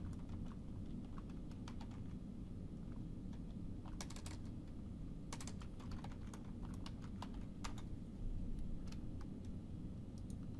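Computer keyboard typing and mouse clicking at a desk, a steady run of light, close clicks with a few sharper taps and no talking.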